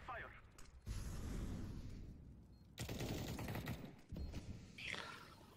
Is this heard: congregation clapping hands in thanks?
no